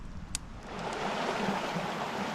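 A mountain creek rushes steadily and close, a continuous broadband flow that grows fuller after the first second, with a faint click early on.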